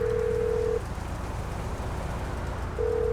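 A payphone being dialed in GTA Online: a steady ringing call tone sounds, breaks off for about two seconds over background engine-like hum, then resumes.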